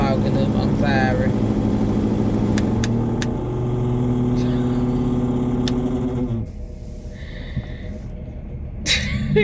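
A noisy car engine runs steadily inside the vehicle with a loud, constant low rumble that drops off partway through, while a person talks over it.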